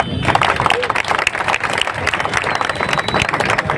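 Crowd applause at a Hindi-language public gathering, dense and continuous clapping at a steady loud level for the whole stretch, with scattered voices mixed in.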